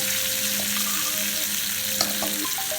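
Butter sizzling steadily on a hot chicken sizzler plate, a close, continuous frying hiss with small pops and a brief sharper crackle near the end, no talking.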